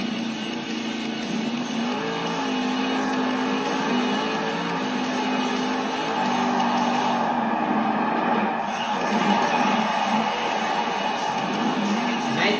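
Velociraptor monster truck roaring through a run at a Monster Jam arena show in Portland, Oregon, a sustained distant engine drone with shifting revs under crowd ambience.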